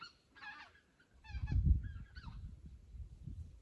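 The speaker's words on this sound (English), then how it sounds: "Y'all hear those birds?" Geese honk several times in short bursts from a distance over a backyard garden, their calls clear above a low rumbling of wind or handling noise, with no talk.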